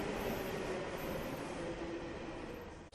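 A Noida metro train runs steadily along the track, a continuous loud rumble with faint wheel squeal and no break, heard alone without talk.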